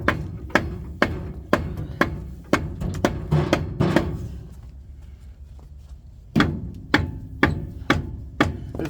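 A hammer pounds on hot brake parts of a pink Jeep, sharp metallic blows landing in a steady rhythm, briefly pausing, then resuming with harder, louder strikes close by.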